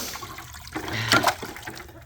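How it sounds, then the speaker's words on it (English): Water dumped onto the ice of a frozen animal water trough on a farm in winter, a brief close splashing pour of about a second that swells and fades, with no talk. "the only thing I'm gonna do is just dump some water on top."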